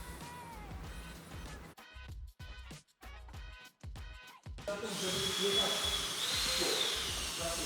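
A power drill bites into a removed RAM 1500 truck part in several short bursts separated by pauses, then a longer, steadier whirring hiss takes over toward the end.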